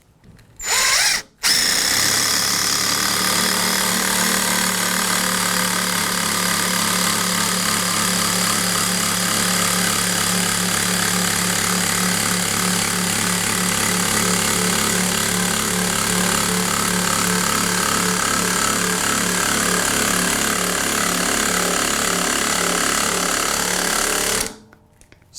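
A Ryobi QuietStrike 18V ONE+ oil pulse driver sinks a very long screw into a 4x4 post, running loud and continuous for over twenty seconds with a steady pulsing whir before stopping abruptly.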